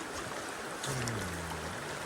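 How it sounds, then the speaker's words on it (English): A river current flows steadily during a bamboo raft ride in Chiang Mai, Thailand, making a faint, continuous rushing wash of water with a brief low hum partway through. "Current is the river flowing down in the bottom."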